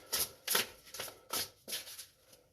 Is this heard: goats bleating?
no